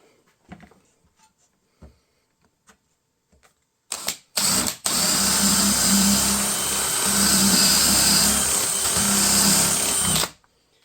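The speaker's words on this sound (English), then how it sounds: "once you got your hole drilled, back it out" A power drill bores a hole in an MFT table top: a few faint knocks, then a brief start and a sustained loud motor whine lasting several seconds before it stops abruptly, close by, with no speech.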